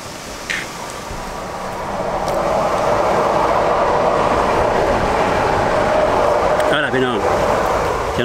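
A train passes nearby, its rumble building after the first two seconds into a steady, loud roar that holds to the end, with brief voices and a short whistle-like tone near the close.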